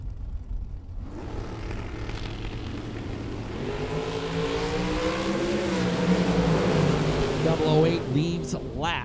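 Prepared dragster and TNT Supercar drag racing cars accelerating down the strip, engine roar rising and climbing in pitch over several seconds, mixed with a track announcer's voice and crowd noise.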